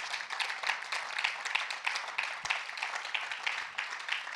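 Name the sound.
congregation applauding the Lord in church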